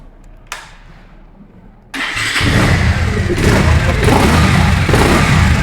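A 2022 Bajaj Pulsar double disc motorcycle, in fresh condition, starts up with a quick cranking burst, then settles into a loud, close, steady engine idle with slight rises in revs.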